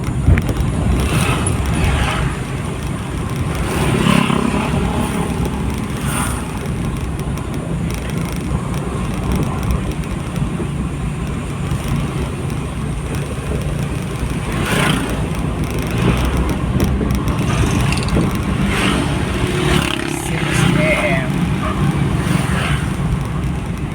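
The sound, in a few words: motor tricycles passing on the road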